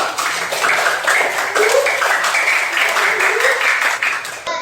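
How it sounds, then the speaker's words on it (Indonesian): Schoolchildren in a maths lesson clap their hands together, a close, busy patter of many claps running for several seconds, with voices mixed in and an abrupt stop at the end. "ya tepuk tangan buat kita"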